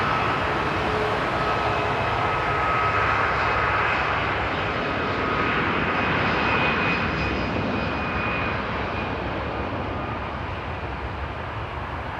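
Airliner taking off at Frankfurt Airport, a loud continuous jet engine roar that stays steady across the clip and tapers slightly at the end, heard from a distance with no talk.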